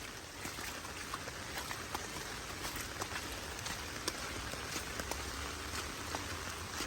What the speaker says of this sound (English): It got more from a minute ago, the rain.